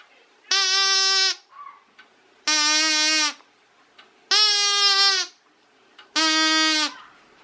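A groan tube toy is blown through and tipped up and down, producing four loud, drawn-out groaning tones in a steady rhythm with short gaps between them.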